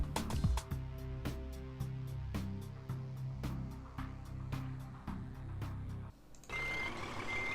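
A truck reverses in a Scania truck driving simulator game, its backup alarm beeping loudly and evenly over a low idling engine rumble. After about six seconds the beeps stop and a hiss of air or wind takes over.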